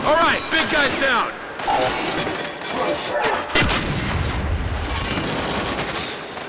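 A frag grenade blast in Gears 5 lands as a sharp crash near the middle, set amid combat gunfire and shouted voices, with sustained rumbling and noise afterward.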